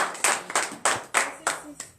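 Church congregation at a morning prayer service clapping in acclamation, six or seven sharp, loud unison claps in a steady rhythmic beat, each ringing briefly in the room.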